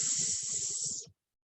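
A person imitates a snake with a long, loud, steady hiss lasting about a second, then stops abruptly into silence.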